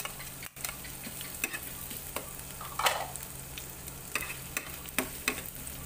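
Onion sizzles in hot oil with ginger in a frying pan, a faint steady crackle punctuated by sharp ticks and clicks of a utensil stirring, close and quiet, with no speech.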